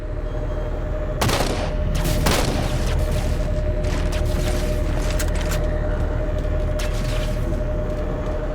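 Gunfire in the Halo 4 game: heavy bursts of shots and booms over a constant mechanical hum, loudest in two sharp volleys early on, then continuing as scattered rattling fire.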